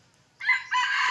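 A hunter rooster crows once, a loud close cock-a-doodle-doo rising from near silence and holding its strained call to the end.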